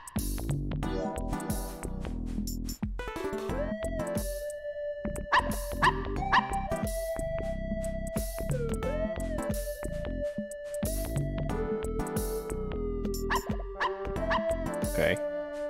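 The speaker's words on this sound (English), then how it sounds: "Cute little doggy dogs." Small cartoon dogs bark and yip in the Button City video game, short bursts scattered over a busy bed of game music that runs throughout.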